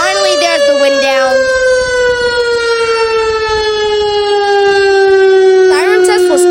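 An STH-10 civil defense siren during a test, its loud steady wail slowly sliding down in pitch as it winds down, close and powerful, with a brief new rise near the end.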